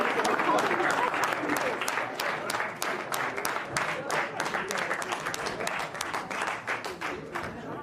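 Republican senators applaud Trump on Capitol Hill, a loud sustained round of clapping with distinct sharp claps standing out, tapering slightly toward the close, with voices murmuring underneath.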